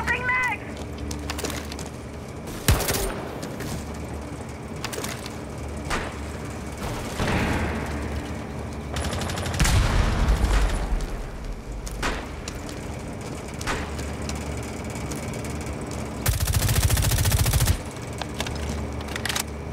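Bursts of automatic gunfire in Rainbow Six Siege on the Coastline map crackle intermittently, loud and close, among in-game noise while a player talks over them.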